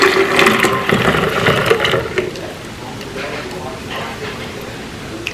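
Liquid streaming through a strainer a second time while making a matcha latte, a close splashing trickle that is louder at first and then thins to a softer dribble.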